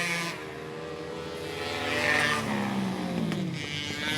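Two-stroke racing motorcycles at a track, a distant buzzing engine drone with gliding pitch sweeps as bikes pass and back off the throttle, steady and fairly loud without voices.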